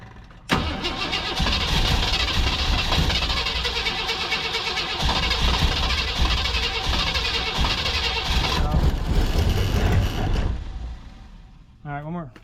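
A Lincoln car with a leaking carburetor is cranked and its engine catches and roars loudly for about ten seconds, then cuts out, close by, with voices heard in the background.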